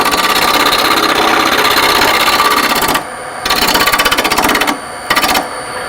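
A wood lathe takes light cuts while turning a wooden sphere: a steady, loud rasping scrape with a fast rhythmic pulse, dropping out briefly twice as the tool lifts from the wood.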